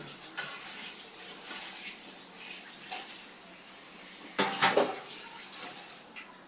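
Water sloshes and swirls as rice is washed in a pot in soft bursts, with a louder splashing rinse near the end; no voices.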